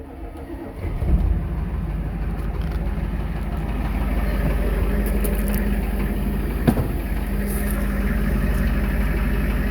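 A lifted pickup truck's diesel engine idles with a steady low rumble close by, a brief surge near the start, then holding an even drone throughout.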